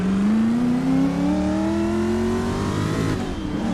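A retro race car in the Assetto Corsa racing game, driven at the Battenbergring, revs loud and steady, its engine note climbing through the gear and then easing off near the end, with no talk.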